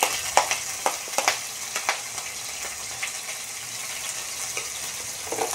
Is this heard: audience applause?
no